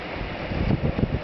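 High wind gusting around a small titanium wood-burning stove with a spark arrestor on a windy night, a steady roaring rush with stronger low buffeting swells toward the end, close to the microphone.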